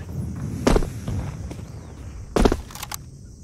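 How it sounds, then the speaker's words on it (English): Flashbang grenade thrown in a tactical shooter game, two sharp percussive bursts about two seconds apart over faint background movement, moderately loud. "Throwing flashbang."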